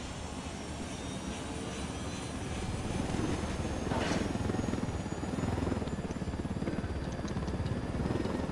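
A helicopter in the Ghost Recon video game drones steadily with a rotor and engine roar that swells in the middle and stays loud and near throughout, with no talk over it.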